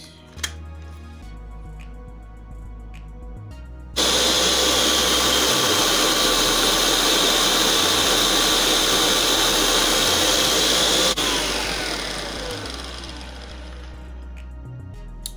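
A blender blending celery and coconut water suddenly roars to life, whirring loudly and steadily for several seconds, then winds down slightly as the motor keeps running.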